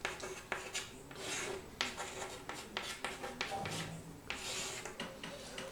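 Chalk or marker strokes scrape across a classroom board in irregular bursts, with a steady hiss of rubbing between them, at close range and without talk.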